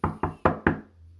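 Four firm knocks in a quick, even sequence, close and clear with short decay, followed by a faint low hum.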